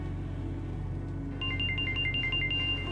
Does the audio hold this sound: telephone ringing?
yes